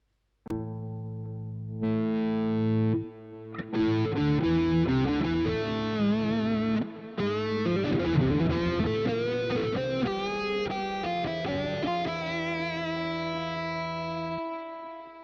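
Electric guitar played through a Roland VG-99 modelling a Hammond B-3 organ: sustained, organ-like chords and single notes ring out with a chorus-like shimmer, loud and continuous for about fourteen seconds, with short gaps between phrases.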